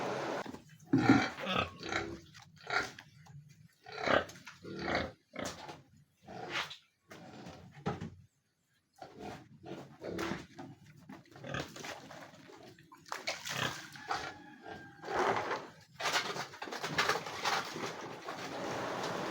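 Native pigs in their pen at feeding time grunt and squeal in short, repeated bursts close by, with brief pauses and clattering between calls.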